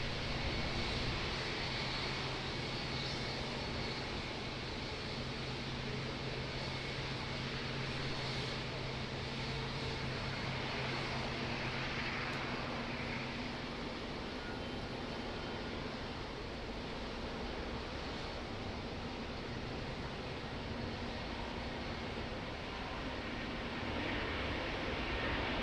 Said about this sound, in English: this is the Singapore Airlines Airbus A350, the second Singapore Airlines flight for the day